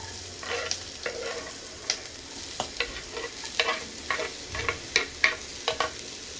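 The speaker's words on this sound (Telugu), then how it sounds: "దీంట్లోనే కట్ చేసి పెట్టుకున్న వెజిటేబుల్స్ అన్నీ కూడా ఒకేసారి వేద్దాం." Carrot, green chili, beans and onion sizzle in a pan for egg fried rice, while a spatula stirs and scrapes in a steady, rhythmic pattern close up, and no one speaks.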